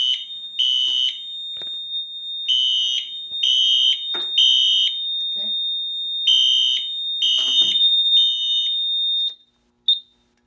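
An FCI FC-2224 fire alarm control panel sounds a zone 2 alarm in repeated loud electronic bursts, a shrill tone pulsing on and off in groups with short gaps, then stopping.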